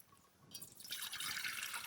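Liquid pours into a pot while tea is made over an outdoor fire pit in a village field, starting with faint drips and swelling into a steady splashing stream.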